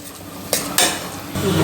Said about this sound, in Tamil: கரண்டியை வச்சே ஓரளவுக்கு மேஷ் பண்ணி இந்த அளவுக்கு கலந்து விட்டாச்சு